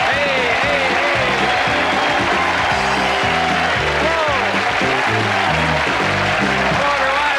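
Studio audience applauding the host of the comedy game show Baloney as he takes the stage, a loud, steady wash of clapping over bright stage music with musical stabs throughout.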